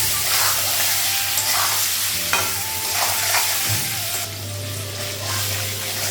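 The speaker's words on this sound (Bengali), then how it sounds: "কড়াইটা খুব গরম হয়ে গেছিলো, পনিরটা ধরলো না কড়াই।" Paneer fries in a very hot kadai, giving a loud, steady, close sizzle with occasional scraping and stirring knocks over a low hum.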